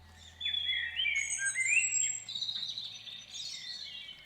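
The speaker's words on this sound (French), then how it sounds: "À l'aube, quand la brume floute le paysage, le règne musical des oiseaux commence." Several birds sing and chirp at dawn over misty wetlands in the Somme valley, overlapping high warbling phrases continuing steadily, moderately near, with a faint low hum beneath and no talking.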